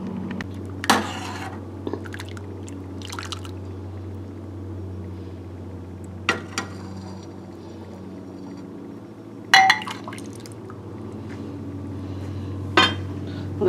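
Dishes and a ladle clink sharply a few times, scattered and close, as corn chowder is served into a bowl, with quiet gaps between the bright knocks and a steady low hum underneath.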